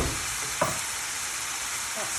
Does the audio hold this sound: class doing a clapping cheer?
no